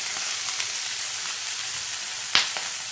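Stuffed kakrol frying in a pan sizzles steadily after a little water is sprinkled over it, a continuous hiss with a few sharper pops and crackles.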